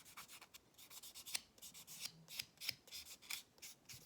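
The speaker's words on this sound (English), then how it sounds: "to regularly prep my nail, I'm going to take my buffing side and I'm going to do a very gentle buff" A fingernail is buffed very lightly with the buffing side of a nail buffer: quiet, soft, rapid rubbing strokes in an uneven rhythm, close and alone.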